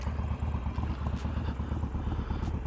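A Harley-Davidson Club Style Dynaster Sportster idles in neutral with a steady, loud, throbbing engine rumble and a few faint clattery ticks on top, close by and alone.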